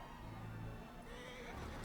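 A horse neighs in a medieval knight drama scene, a loud whinny over orchestral music and crowd noise, with a second burst near the end.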